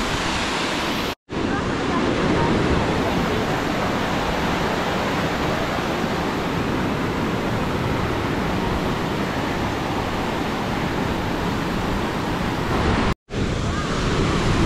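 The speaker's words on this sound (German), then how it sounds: "So, jetzt sind wir dem Wasserfall sehr, sehr nah und überqueren ihn dann über die Brücke" A large cascading waterfall in the Black Forest roars close by, a loud, dense, unbroken rush of falling water that fills the whole span, with two brief dropouts.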